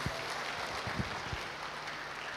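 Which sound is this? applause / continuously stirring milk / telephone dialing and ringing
applause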